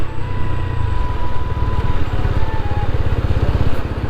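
A 2025 TVS Apache RTR 200 4V motorcycle rumbles steadily at close range during a brake test, its engine a loud, continuous, throbbing drone with no clear speech.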